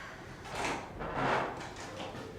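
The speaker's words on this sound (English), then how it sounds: "I'll just open that door for him." A door is opened indoors, heard as a couple of soft, muffled sliding and rubbing movements that rise and fade over a couple of seconds, with no talking.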